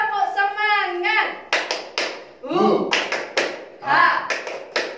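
Children clap their hands in quick bursts during a chant at an online Sunday school service. Sharp, close claps land in several clusters, mixed with voices chanting.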